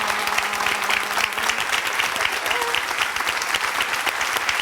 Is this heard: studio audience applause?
yes